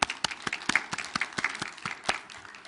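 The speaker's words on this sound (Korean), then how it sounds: "하나님께 영광의 박수" A church congregation claps together in a brisk, steady burst of applause during a Sunday service that keeps going without pause, with a faint room echo and no voices.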